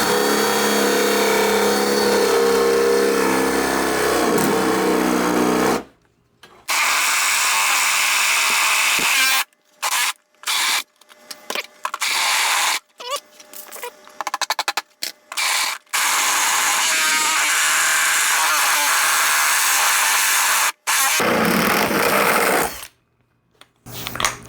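A drill bores a 1.5 inch hole in a wooden birdhouse, with loud, close grinding bursts broken by short pauses as the bit stops and restarts.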